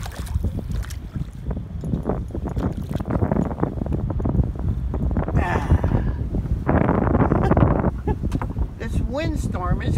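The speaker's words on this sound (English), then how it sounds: "Windstorm is crazy." Strong wind gusting over open water while fishing from a boat near a tree-lined shore, a steady roaring buffet on the microphone that swells louder midway, with bits of talk and handling sounds mixed in.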